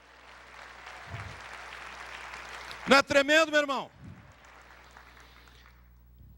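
A short burst of clapping from a church audience, lasting about a second, between stretches of a preacher speaking loudly in Portuguese.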